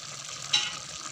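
Chicken curry in a pot is stirred once after the lid comes off, giving a short close scrape over a faint steady simmering hiss.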